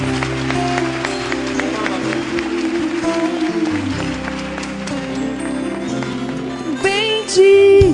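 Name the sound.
church congregation applauding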